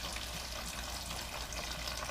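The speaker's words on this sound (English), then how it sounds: "with the radiator cap off, the water is going to really flow out" Water flowing steadily out of a car radiator during a flush, a constant close rushing gush with no pauses.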